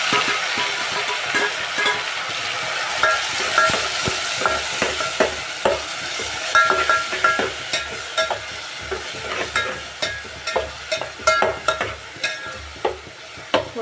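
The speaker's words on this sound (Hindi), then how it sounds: "जो हमने ये टमाटर और प्याज और अदरक लहसुन पीस के रखा था अब हम वो डालेंगे" A ground paste of tomato, onion, ginger and garlic fries in a pan of cooked onions for chole, a constant sizzle broken by rhythmic scraping and clattering of a stirring spoon that grows more regular toward the end, with no voices.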